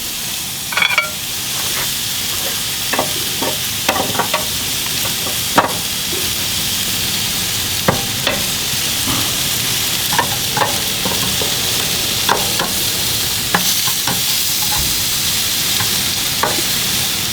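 Steady, loud sizzling of Coca-Cola-glazed pork ribs on a hot grill, with scattered clicks and scrapes of tongs moving the sticky meat, continuous throughout and without talking.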